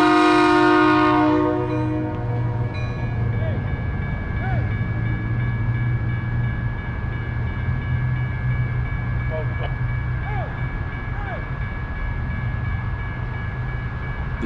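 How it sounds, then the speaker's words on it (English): An engineer blows a loud, sustained commuter train horn at the start, then it cuts off and gives way to a steady rumble of rolling rail cars for the rest. "leading to this lovely horn salute from the engineer"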